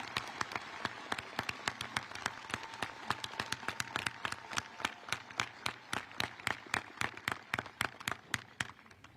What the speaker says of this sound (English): Please give them a round of applause for their dedication to our country.